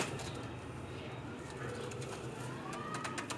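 Pigeons coo softly at a pigeon club in Gujranwala, low murmuring calls set in a busy room tone with faint voices in the background.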